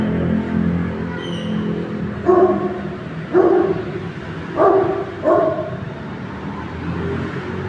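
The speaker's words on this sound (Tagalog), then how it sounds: "Ang laki ng aso." A big dog barks outdoors near a pickleball court, four loud separate barks spaced about a second apart over steady background noise.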